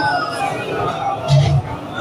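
A crowd at a religious gathering chants salawat in unison in response to a leader's call. The sound is a brief, dense mass of voices that swells to a louder burst in its second half.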